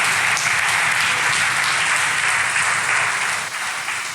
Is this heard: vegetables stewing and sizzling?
no